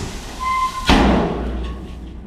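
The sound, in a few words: dump truck unloading stone with a boom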